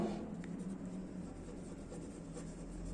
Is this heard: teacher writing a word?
yes